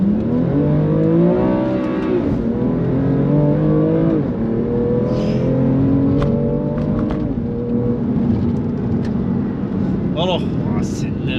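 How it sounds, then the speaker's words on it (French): A BMW M2 Competition pulls hard down a straight, its engine note climbing through several gear changes, loud and close from inside the cabin, with people talking over it. "je te laisse faire une petite ligne droite de M2 compète"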